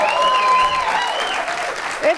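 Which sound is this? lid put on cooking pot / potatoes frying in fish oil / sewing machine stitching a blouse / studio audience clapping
studio audience clapping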